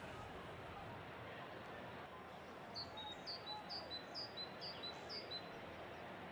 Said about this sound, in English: We got the birds chirping.